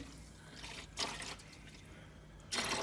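Salty water drains out of a 1984 Chevy Blazer engine, coming as brief wet splashing bursts and drips, near and fairly quiet, with two louder gushes separated by a lower trickle.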